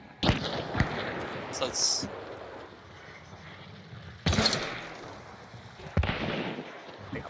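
Gunshots in Bayou Blitz, a few sharp cracks spaced seconds apart, some close and some more distant, over a quiet background with a player talking briefly.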